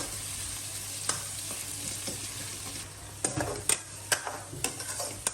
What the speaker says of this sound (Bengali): পেঁয়াজটা ভালোভাবে নেড়ে চেড়ে ভেজে নিতে হবে